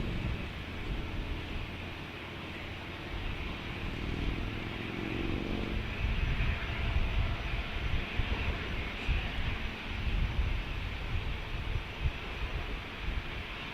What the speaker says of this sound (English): Off to Seattle, this Delta Airlines flight goes.